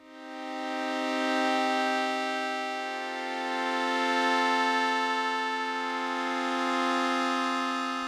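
A thick, buzzy synthesizer drone from an oscillator with sixteen unison voices holds a steady pitch, gently pulsing in loudness with a slow wavering shimmer across its bright harmonics.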